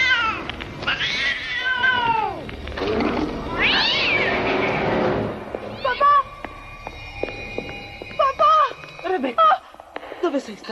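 A cat meows and caterwauls in a dark stairway setting, several drawn-out wailing cries close by, mixed with short bursts of other noise and some speech-like sounds.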